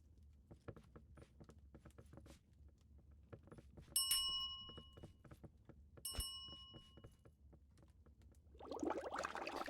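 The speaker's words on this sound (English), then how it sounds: "You don't get to ring the bell at me." Two bright metallic dings of a bell ring out in a video game, spaced about two seconds apart, clear and ringing over a quiet backdrop of scattered clicks and taps.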